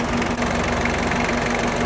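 A Peugeot 205 engine idles with its radiator fans running constantly, a loud, steady drone with an even hum throughout and no speech.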